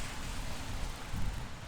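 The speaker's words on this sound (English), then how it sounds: "As it turns out, the weather forecast was wrong, and it's raining." Rain falls steadily in a New York City street, a faint, even wash of patter with no breaks across the short stretch.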